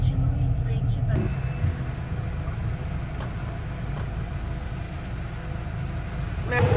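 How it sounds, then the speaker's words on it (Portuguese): A car rolls slowly up to a border crossing, its engine a steady close rumble throughout with road noise and occasional talk over it. "Vamos ver se para o carro aqui."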